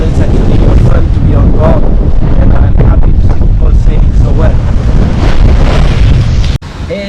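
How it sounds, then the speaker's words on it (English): Strong wind of 25 to 30 knots roars continuously across a catamaran sailing at sea, with loud buffeting gusts and rushing water throughout, easing abruptly near the end; a voice speaks over the din. "Blowing a bit hard this morning, between 25 and 30."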